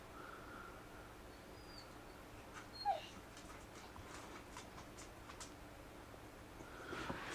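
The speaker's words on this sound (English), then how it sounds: "we'll let this dog back out." Dog whimpering faintly indoors, a couple of soft whines and a brief yip over quiet background hiss, with no talk.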